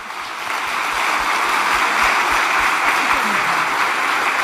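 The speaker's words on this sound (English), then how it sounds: "A round of applause to our panelists." A conference audience applauds its engineering sustainability panelists, a steady wash of clapping that rises after the first half second and holds evenly loud throughout.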